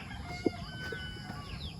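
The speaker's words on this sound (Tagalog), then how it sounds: "So tingnan natin yung manok." Soft clucking from chickens at close range against a quiet, steady background hum, with a couple of brief, slightly louder clucks.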